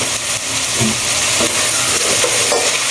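Seasoned pork frying and being stirred in a pan, a steady close sizzle with scraping stir strokes running throughout, no talk.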